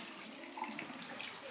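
Hot water heated geothermally to 73 degrees Celsius runs steadily from a household tap in a city home, a soft continuous hiss and splash heard close up and alone.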